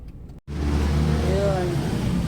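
A car drives past on a street during a shopping trip for essentials. Its engine rumble is steady and close, with a brief rising whine, after a short moment of silence at the start.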